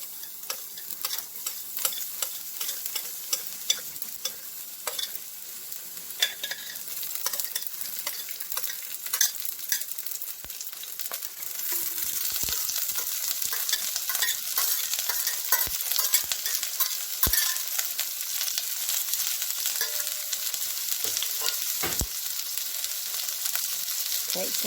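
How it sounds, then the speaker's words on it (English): Garlic and onions frying in a tablespoon and a half of oil hiss and crackle while a utensil stirs and clicks against the pan, the sizzle swelling louder and denser partway through with no talking. "a tablespoon and a half of oil, and then we're going to add our garlic and onions."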